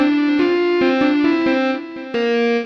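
An electronic keyboard set to its guitar voice plays a short run of bright, sustained notes with a distorted, buzzy timbre, each new note starting sharply and ringing on, close and loud.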